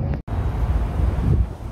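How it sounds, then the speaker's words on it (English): Wind blows outdoors into the microphone as a loud, low rumbling buffet with a brief dropout near the start, steady gusting noise throughout and no talk. "It's windy out"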